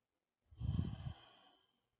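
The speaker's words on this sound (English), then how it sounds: "Nice deep inhales, nice deep exhales." A single deep, slow exhale, soft and close, like a relaxed sigh during breathing exercises, trailing off into quiet.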